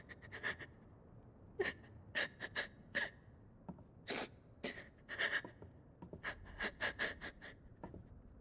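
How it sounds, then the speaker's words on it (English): A female character in the Final Fantasy 16 video game gasping and panting through sobs, short irregular breathy bursts separated by brief pauses, close and clear. "It's the breathing noises."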